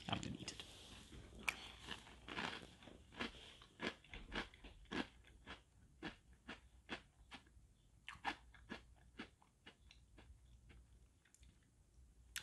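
Quiet, close chewing of Twinkies-flavored cereal in milk comes as a steady rhythm of soft crunches and bites, repeating for several seconds with no talking.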